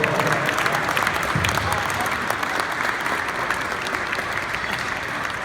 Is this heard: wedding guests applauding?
yes